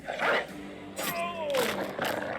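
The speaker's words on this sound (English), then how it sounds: "Dog on dog action." Dogs fighting in the video game Battle Brothers, with short growls and a rising whimper over game noise as someone talks.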